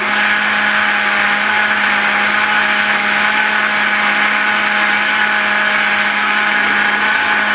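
Loud, steady whirring of a blender motor emulsifying pea and mint gazpacho with olive oil, running without pause, close by and uninterrupted.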